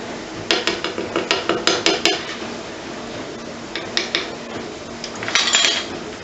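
A metal pan clinks and scrapes against a stovetop as olive oil goes in before onions are sautéed, a run of close, sharp knocks and rattles with no talking.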